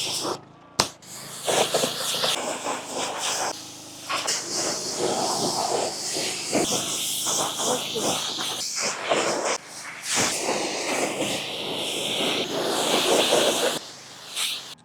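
Water spray hisses steadily from a hose or pressure sprayer rinsing a car during a detailing job, loud and continuous across the whole stretch with brief breaks and surges.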